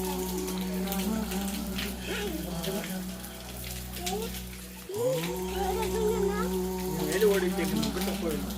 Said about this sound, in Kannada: ಸಿಕ್ಕಾಪಟ್ಟೆ ಗುಡ್ಡದ ಮೇಲೆ ನೀರು ಬೀಳ್ತಿರ್ತಾವ